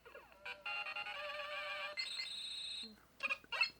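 A Mega Man toy figure from Gamestop plays bright electronic chiptune-style melody tones, a short tinny tune followed by a pause and a few more beeping bursts, with brief talk at the end.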